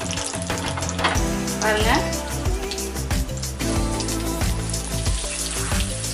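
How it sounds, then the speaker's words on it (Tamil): Cumin seeds splutter and sizzle in hot oil for a Tamil-style aviyal, a loud, close crackle with sharp pops throughout while a voice speaks briefly over it. "சீரகத்தை சேர்த்துக்கிறேன். சீரகம் பொரிஞ்சதுக்கப்புறமா அப்படியே இதில் எடுத்து போட்டுருவோம்."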